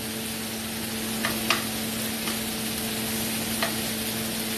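Shrimp searing on a hibachi griddle, a steady close sizzle with a few sharp clicks and scrapes from the spatula, no talk.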